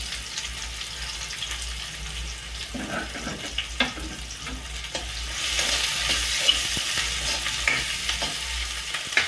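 Cumin, mustard seeds, green chili and onion fry in very hot oil for dal tadka: a steady hiss and sizzle that swells louder midway, broken by a few soft stirring knocks close by.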